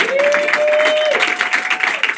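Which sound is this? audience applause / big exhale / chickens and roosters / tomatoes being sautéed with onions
audience applause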